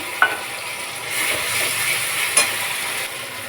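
Ginger, garlic and onion paste fries in a hot pan with a loud, steady sizzle and crackle, broken by a couple of sharp utensil clinks, heard alone.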